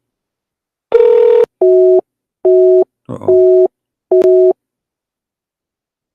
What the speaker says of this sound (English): Line is busy.